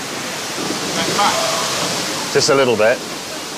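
A rushing waterfall close by, a steady broadband roar running through the whole stretch, with someone talking over it near the end.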